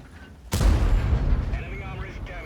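An M48 Patton tank cannon firing a HEAT round in a tank battle video game: a single sudden loud boom with a long rumbling tail that fades slowly, close and alone.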